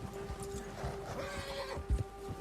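Nearby horse in Red Dead Redemption 2 gives a neigh over scattered hoof clops and soft thumps, with no one speaking.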